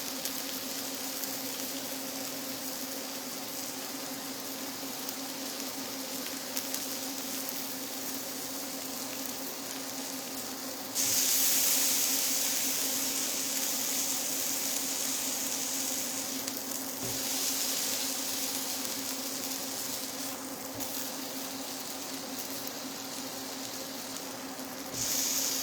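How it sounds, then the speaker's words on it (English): A wrap fries in lamb fat, giving a steady, soft sizzle with a constant hum underneath, the hiss growing louder partway through and staying even for about 25 seconds. "the wrap is actually frying in the lamb fat"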